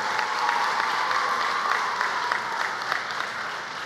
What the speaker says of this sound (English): let's give her a big round of applause